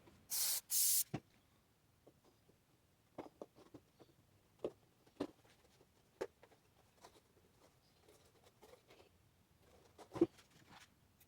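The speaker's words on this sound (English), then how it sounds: "spray the burlap, spray the foam shell, and just press it in" Spray adhesive is applied in a few short, loud hissing bursts onto burlap and a foam shell for a scarecrow mask, followed by soft scattered taps and rustles as the fabric is pressed into place.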